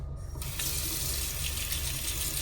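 Tap water runs steadily into a hotel room sink, a continuous splashing rush that starts almost at once and stays even and close throughout.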